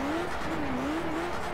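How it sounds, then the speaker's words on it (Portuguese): A motorcycle in the video game MX Bikes, a Hornet ridden in the rain, drifts with a steady, loud engine drone whose pitch wavers gently as it slides, heard alone without talk. "Fazendo drift."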